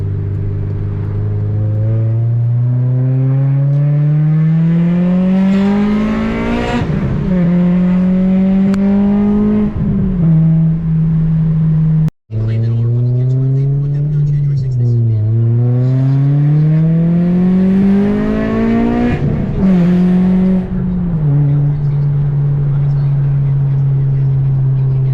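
A Honda car engine revs hard into VTEC, pitch sweeping steadily upward through the gears with a brief cut at mid-run before climbing again, loud and close throughout, with no talk over it.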